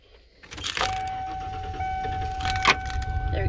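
A van engine is cranked with the key and catches, followed by a steady idle with a faint whine. There are some clicks and rustles nearby, and no one talks.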